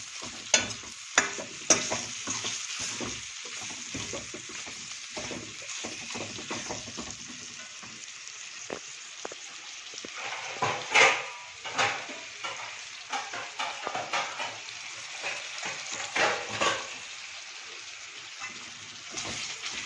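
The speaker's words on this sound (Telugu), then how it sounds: "చికెన్ని బాగా కలుపుకొని" Chicken and spinach stirred in a frying pan, a steady sizzle broken by frequent scraping strokes of a spoon that come close and loud, with no voices.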